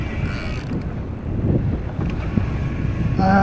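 Wind buffets the microphone on a trail by a golf course, a continuous low rumbling roar with gusty swells that strengthen toward the end, no talking.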